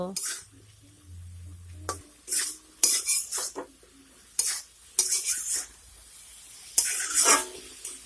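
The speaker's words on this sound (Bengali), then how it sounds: "হলুদটিকেও নেড়েচেড়ে সবজির সঙ্গে মিশিয়ে নেব" A utensil stirs spinach and cauliflower with turmeric in a pan, giving separate bursts of scraping and clattering against the metal over a faint sizzle, with short quiet gaps between strokes.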